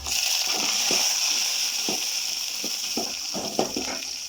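Garlic and small green chillies frying in hot oil for vathal kuzhambu, a constant bright sizzle with scattered soft clicks and scrapes of stirring, close and steady throughout.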